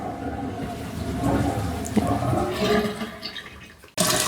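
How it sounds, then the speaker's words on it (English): Water rushes down a newly installed bathroom vanity drain, a continuous gurgling flush that swells, tapers off, then surges again abruptly at the end. "The water's just rushing down."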